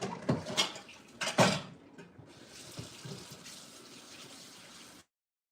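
Potatoes are washed under a running kitchen tap, with splashing water, a couple of louder bursts and clunks early on, then a steady stream that stops abruptly.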